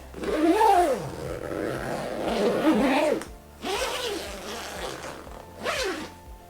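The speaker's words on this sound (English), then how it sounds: "the zippers on this bag, as a broken-in GORUCK, are very, very smooth, as you can see." A zipper on a broken-in GORUCK Bullet Ruck 15 two-compartment bag is pulled smoothly, close up, in several drawn strokes with short pauses between them.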